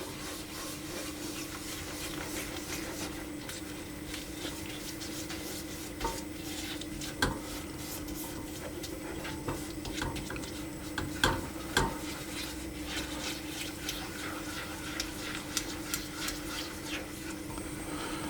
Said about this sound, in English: But I'm stirring all the time so that it doesn't stick to the bottom.